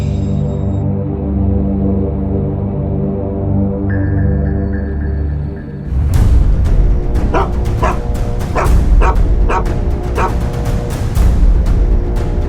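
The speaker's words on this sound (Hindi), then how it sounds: "ये कुत्ता भी यहीं आकर सूंघ रहा है" A dog gives a run of sharp, loud barks and yelps mixed with whimpers, repeated in a rapid rhythm over a sustained background tone that fades in the first half.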